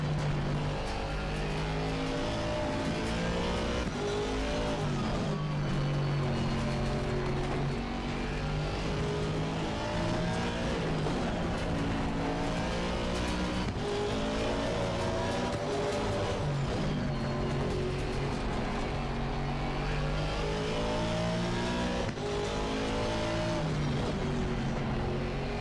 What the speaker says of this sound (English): Man, that V8 sounds so nice.